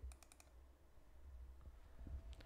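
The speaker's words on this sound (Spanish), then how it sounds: "se escucha un doble clic" Quiet computer mouse double-click taps, a quick cluster of clicks at the start and another near the end, over a faint, low hum.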